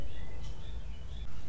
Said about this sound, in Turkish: Kuşlar cık cık. Bak sesler.